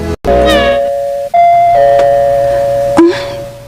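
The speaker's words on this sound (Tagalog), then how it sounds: "May nag-doorbell na." A doorbell rings out clear, sustained chime tones, one after another, close and loud, with a short gap before the chime.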